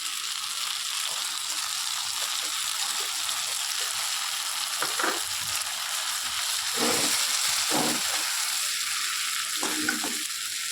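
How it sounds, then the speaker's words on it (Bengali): Chicken sizzles steadily in a pan as ground gravy is poured in, with a constant frying hiss and a few louder splashing bursts near the end. "এবার এটার মধ্যে আমি গ্রেভিটা ঢেলে দেবো।"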